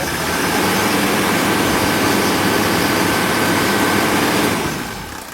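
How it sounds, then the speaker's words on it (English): A Mercedes OM617 diesel engine, shaking on its mounts, is raced up off idle into a loud, dense, steady roar that holds for several seconds before easing off at the end, heard up close with no talking. "Now let's just race it up to see how the engine sounds."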